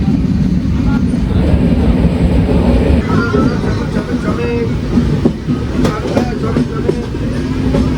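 A train rolls steadily through Puthukkad railway station without stopping, a heavy rumble with rhythmic clickety-clack and scattered metallic clicks, faint muffled voices in the background.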